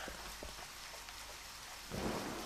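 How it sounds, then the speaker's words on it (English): In the video game Deadly Premonition, a soft, steady hiss of rain falls, and a low thunder rumble swells near the end; the whole scene is faint. "it's raining"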